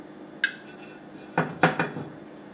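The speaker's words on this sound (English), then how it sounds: "First I am going to grease this skillet or pan" A skillet is greased for paddu, with a light metallic clink followed by a few quick clattering knocks of utensil on pan, close and distinct over a quiet background.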